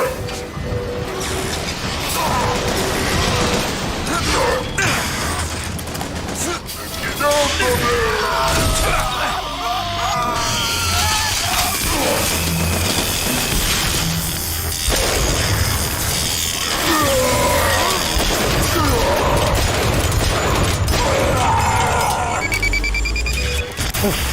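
Cannon and gunfire in the video game Bioshock Infinite, a busy, dense stretch of blasts, clanks, crashes and ringing mechanical noise that keeps going without letup, with voices calling out at times over it.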